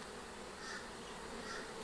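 Honey bees buzzing around an open hive during an inspection, a dense, steady drone with soft rising swells, fairly quiet and with no talk.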